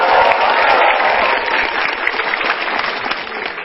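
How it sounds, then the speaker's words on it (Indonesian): An audience claps for a stand-up comedian at a comedy show, with a burst of dense applause that peaks early and then eases slightly while continuing. "Dan coba kita lihat pakai tepuk tangan ya."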